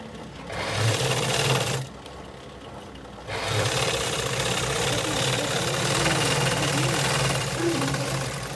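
A sewing machine stitching cloth runs in steady mechanical bursts, loud and close, with a brief pause in the middle before it starts up again and continues.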